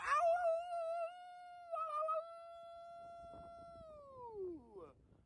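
Several people howling at the moon in the middle of the night, long wavering drawn-out wolf-like howls from human voices imitating the sound, a loud sustained note that dips midway, then slides downward and fades out.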